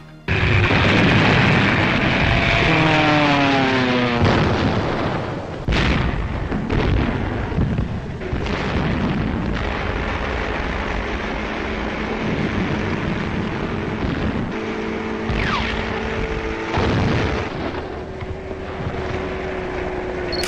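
Archival World War II footage of German heavy artillery and dive-bombing, a loud continuous roar of aircraft engines with sweeping droning tones and repeated heavy booming blasts throughout, no voices.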